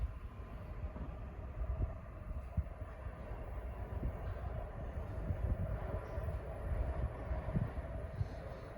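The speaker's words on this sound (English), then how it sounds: "Train now arriving on platform 3 is your 807 Watergardens service." A Metro Comeng electric train pulls into Parliament Station's underground platform, a steady low rumble of wheels and motors rising slightly as it approaches, close and continuous with no voices.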